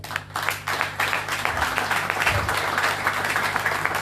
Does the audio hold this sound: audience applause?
yes